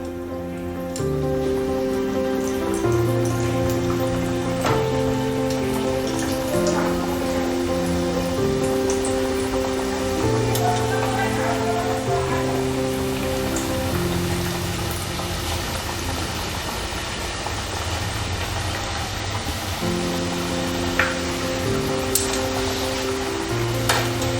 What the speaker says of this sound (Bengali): এবার আমরা সামোসাগুলোকে, সিঙ্গারাগুলোকে ভেজে নেব একটা একটা করে।